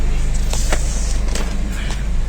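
A Honda Civic FD engine idles with the air conditioning running, a steady close low hum with a few faint clicks on top.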